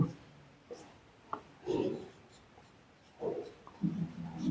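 Chalk or marker writing on a board during a maths lecture on division and remainders, several short scratchy strokes in bursts with pauses between, close and moderately loud.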